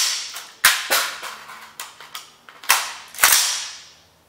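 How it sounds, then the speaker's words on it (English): Rifle fitted with Cross Armory quick pins having its magazine swapped and action racked, heard as a close series of sharp metallic clacks and snaps, with two louder bangs near the end. "close it, insert our new mag, and rack it"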